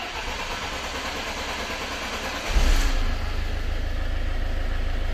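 A diesel Citroen C5 engine with an engine fault cranks briefly and catches midway, then settles into a steady, low, rumbling idle that continues to the end.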